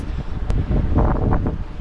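Strong gusts on a beach buffet the microphone in a steady low roar, with a brief sharp click partway through and no voices.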